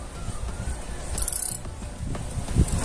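A 10 mm socket ratchet works loose the sprocket bolts on a Honda Bros 160 motorcycle, with close mechanical ratcheting clicks over a low background hum and no voices.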